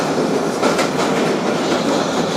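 A 2012 Kawasaki R-188 car on the 7 train rolling along, a dense steady roar with faint rhythmic clickety-clack from the wheels, close and continuous.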